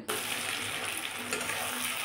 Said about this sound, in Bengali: পেঁয়াজটা এবার একটু বেরেস্তার মতন ভাজা হয়ে যাবে।